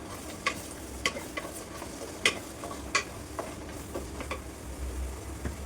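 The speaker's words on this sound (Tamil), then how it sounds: "இதெல்லாம் போட்டுட்டு நல்லா கலந்து விட்டுடலாம்." Coriander, curry leaves, garlic and green chilli are stirred in a clay pot, giving sharp, irregular scrapes and taps over a quiet, low sizzle. The sound is close but soft overall, with no talk.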